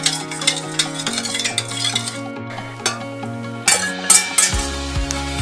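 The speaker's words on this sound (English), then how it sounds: "Stir it again. Just to make sure that it's all mixed nicely." A spoon stirs a homemade yoghurt mixture in a bowl with repeated close scraping strokes and light clinks, set against a steady tonal background hum with no talking.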